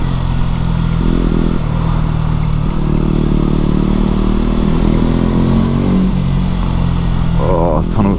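A motorbike with a loud exhaust rides through a tunnel, its engine droning steadily and loud throughout, with the pitch rising and falling as it revs and a rider talking over it.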